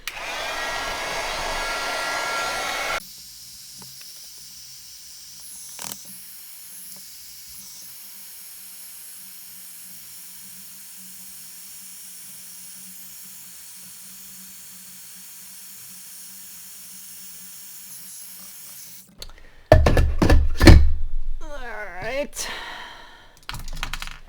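A heat tool blows hot air over stamped paper for a solid-body silhouette card; after a long quiet stretch with faint hiss, a loud, close roaring whoosh of air suddenly starts near the end and keeps going.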